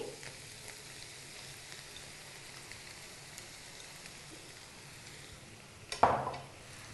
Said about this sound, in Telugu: పసుపు ఉప్పు టమాటా ముక్కలు ఈ మూడు కూడా బాగా కర్రీలో కలిసేలాగా కలుపుకోవాలి